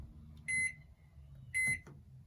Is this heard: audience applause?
no